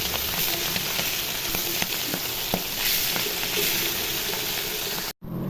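Hilsa fish frying lightly in hot oil, a dense, close crackling sizzle with small pops, steady for about five seconds before cutting off abruptly, no speech.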